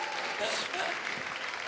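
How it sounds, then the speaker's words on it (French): Audience applause after a French interview, steady broadband clapping across the whole moment at moderate level, with faint talk mixed in. "on peut l'applaudir pour cette opiniâtreté"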